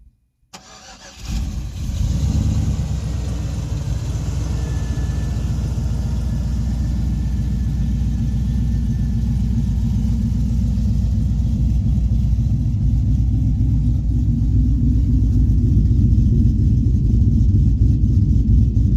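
A cammed 2003 Chevrolet Silverado V8 cranks and fires after a brief silence, then settles into a loud, steady, lopey idle rumble that carries on alone without talk.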